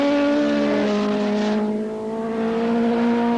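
1979 AMA Superbike motorcycles racing at Laguna Seca, a loud sustained engine whine at steady pitch with a brief passing swell, close and continuous with no voices.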